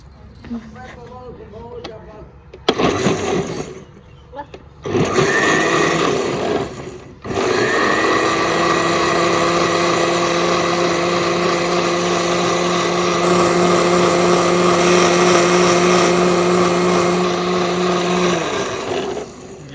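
An electric blender whirs loudly and steadily, churning yogurt into lassi in a village kitchen, running continuously for about twelve seconds after a few brief bursts, with someone speaking over the start.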